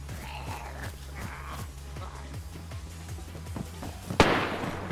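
Gunshots in the DayZ survival game, with a steady run of evenly spaced distant pops followed by one louder, closer sharp crack near the end.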